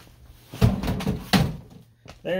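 Door card being pulled off a 1968 Classic Mini MkII door, heard as a couple of dull thunks and a clattering release, close and moderately loud, with someone talking around it.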